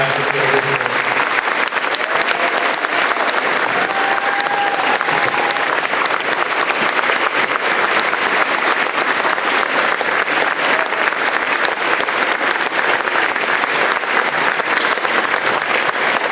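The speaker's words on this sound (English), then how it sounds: "give them a round of applause for all the time" An awards night audience applauds at length, a thick, sustained wash of clapping that stays loud and steady with no talking over it.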